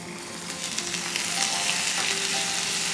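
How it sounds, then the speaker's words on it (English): Spring onion greens and whites sizzle loudly and steadily in a hot pan for a spinach and mushroom spaghetti sauce, a continuous close frying hiss with faint stirring. "And sauté it for 1 minute"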